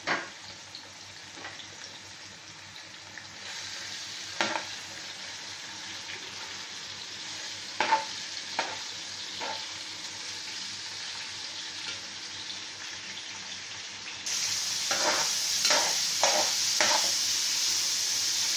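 Meat for pancit sizzles and fries in a pan while being stirred, with scraping clacks of a utensil at irregular intervals; the frying grows louder and brighter near the end, close and without talk.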